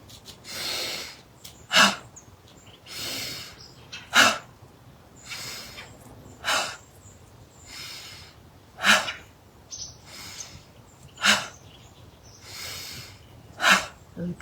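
Rhythmic yoga breathing in a quiet room: long, airy inhales alternate with sharp, forceful nasal exhales, about a dozen breath cycles in a steady pattern, close and clear.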